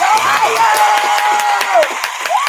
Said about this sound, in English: Let's give her some claps while she's here.